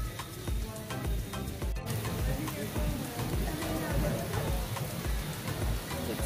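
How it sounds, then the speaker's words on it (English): Rain falls steadily outdoors at a beach resort on Jamaica's south coast, a dense, even hiss of drops spattering on surfaces, close and continuous throughout. "it's raining. So you can see the rain."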